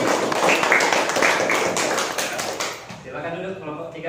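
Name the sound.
classroom applause for a student group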